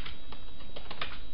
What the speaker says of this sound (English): I'll just type out the important things.